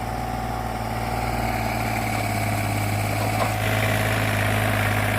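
A farm tractor engine idles steadily with a low, even rumble and vibration in a rice paddy field, continuous and fairly close, with no talking.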